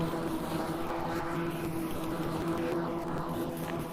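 A GreenWorks Twin Force lawn mower runs close by with a steady, continuous engine drone and a sustained low hum, holding an even level throughout with no talk.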